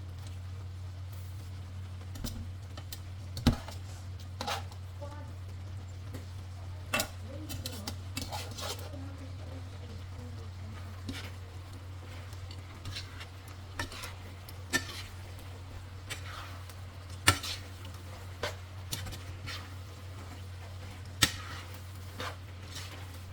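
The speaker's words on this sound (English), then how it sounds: "And then I'm going to add the spaghetti." Spaghetti going into a pan of tomato basil chicken sauce brings soft stirring, scattered clinks of utensils against the pan and a low steady background hum, fairly quiet throughout.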